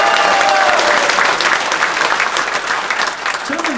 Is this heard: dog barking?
no